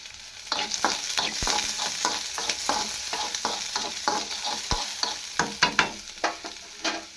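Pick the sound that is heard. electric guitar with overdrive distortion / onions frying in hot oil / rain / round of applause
onions frying in hot oil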